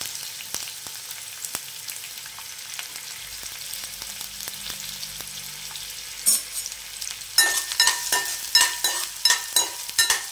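Onions and curry leaves go into hot oil in a home kitchen, and a soft background crackle turns into louder sizzling with quick stirring scrapes near the end, with no one talking.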